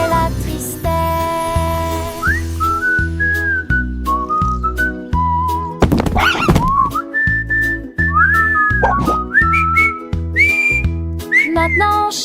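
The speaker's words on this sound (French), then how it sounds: "Chat qui siffle, quelle chose géniale." Whistled melody in a French children's song about a cat that learns to whistle, bright and tuneful over a steady rhythmic backing track, with a short noisy burst midway.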